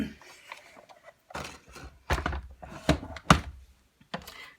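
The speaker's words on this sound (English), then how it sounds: "I'm going to bring the big shot in." A Big Shot die-cutting machine is handled and set down, giving a few dull thunks and knocking clatters that arrive in short, close bursts with quiet gaps between them.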